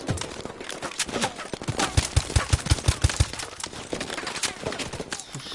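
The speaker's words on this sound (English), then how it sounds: "I'm shooting so many times." Rapid video game gunfire from a mission battling KVA troops, with bursts of sharp, near shots firing in quick succession, peaking in a tight rhythmic volley midway, over a busy mix of game effects.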